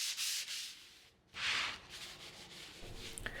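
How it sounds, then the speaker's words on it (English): Veneered doors of a 1940s Art Deco wooden sideboard are hand-sanded in several rasping back-and-forth strokes, close and fairly quiet, with a brief pause between passes. "I'm going to get sanding these doors by hand"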